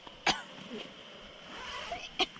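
Two short, sharp coughs, one near the start and one near the end, from someone close by outdoors in the Canadian wild, with quiet background hum between them.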